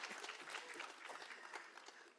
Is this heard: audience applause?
yes